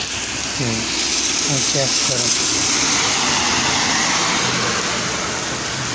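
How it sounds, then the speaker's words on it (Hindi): Heavy rain pours down on people sheltering at a pump beside a car, a steady dense hiss that fills the whole scene while voices talk over it. "बारिश हो रही है बहुत ज़्यादा।"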